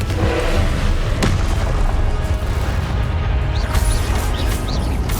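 The Confringo fire spell from Hogwarts Legacy detonates in a deep, booming blast amid dense, continuous roaring game combat noise, with a sharp crack near the start and loud, rumbling low-end throughout.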